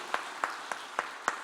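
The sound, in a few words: congregation applause of encouragement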